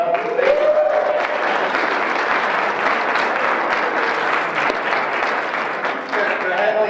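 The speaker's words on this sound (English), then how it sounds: "please give them a round of applause" An audience claps steadily for the student filmers at a spring senior projects presentation, a dense, even applause that keeps up for about seven seconds, with a voice rising briefly near the start and again near the end.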